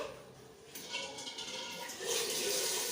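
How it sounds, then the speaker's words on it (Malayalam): Water poured into a pressure cooker for boiling eggs, a soft continuous splashing rush that grows a little fuller toward the end. "അപ്പൊ ഞാൻ കുറച്ച് വെള്ളം ഒഴിച്ചു കൊടുത്തിട്ടുണ്ടതാ"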